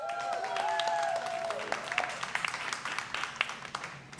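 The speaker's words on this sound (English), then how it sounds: "Can we make some noise for Michaila?" A Boston poetry event audience breaks into applause and cheers for a performer, loud clapping with voices rising and scattered whoops that gradually thin out.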